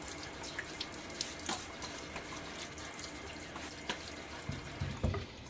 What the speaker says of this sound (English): I'll splash my face with some water